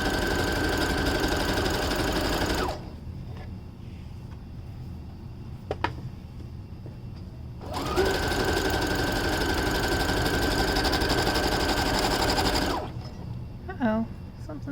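A sewing machine running straight gathering rows through thin, drapey bamboo fabric, its loud whirring hum coming in two long bursts with a quieter pause between and a short restart at the end.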